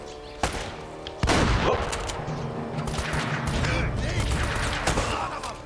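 Gunfire in the action video game Uncharted, dense rapid bursts of shots and impacts continuing throughout, loud and close, with a player's voice occasionally over the firing.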